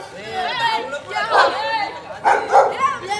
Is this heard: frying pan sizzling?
no